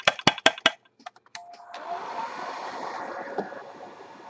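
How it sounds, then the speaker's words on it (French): A hair dryer blows steadily to dry water-thinned paint on a painted miniature for the Massive Darkness board game, switching on after a few sharp knocks and running as a continuous close whooshing blow. "Allez, on va passer le sèche-cheveux ici."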